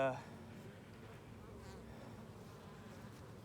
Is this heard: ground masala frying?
no